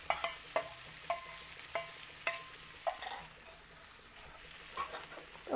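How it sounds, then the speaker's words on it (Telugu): Soaked sago pearls are stirred in a hot tempering pan, giving scraping spoon strokes at an uneven rhythm over a soft sizzle, close by with no talk. "ఇప్పుడు ఈ పోపులోనే మనం నానబెట్టుకున్న సగ్గుబియ్యం కూడా వేసి ఒక్కసారి కలపాలి"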